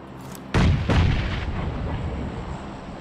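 Two heavy, booming blasts land in quick succession in a zombie-mode shooter game, each followed by a rumbling decay over low background noise.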